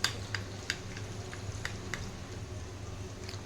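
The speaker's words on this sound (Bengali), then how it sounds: "জলটা দেওয়ার পরে সসটা আমি ভালো করে মিক্স করে নিচ্ছি।" A sauce being mixed in a pan for restaurant-style chilli chicken, with soft scraping strokes and a few light clinks against a steady low sizzling hiss, close and fairly quiet.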